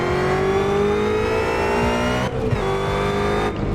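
A 770-horsepower Mustang GT350 in Assetto Corsa, engine droning loud and steady at high revs, then pitch dropping as it brakes hard, with a brief squeal and dips during a quick left-right swerve.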